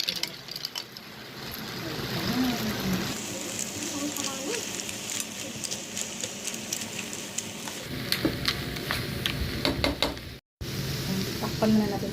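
Cleaned mussels drop into a hot pan with garlic and onion, setting off a steady loud sizzle and frying crackle, with stirring and pan clatter throughout and a brief cut near the end.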